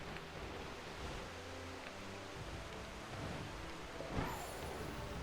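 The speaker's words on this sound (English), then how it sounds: "And this is also a waterfall." A waterfall in a Pokemon video game gives off a steady, soft rushing hiss of falling water, constant throughout, with a faint game chime rising briefly near the end.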